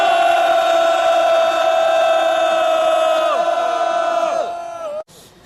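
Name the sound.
rally crowd shouting a loud cheer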